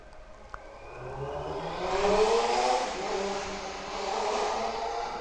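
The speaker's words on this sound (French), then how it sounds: "Ça, c'est une grosse moto." A large motorcycle passes, its engine note swelling to a peak near the middle and then easing off as it moves away, heard alone without talking.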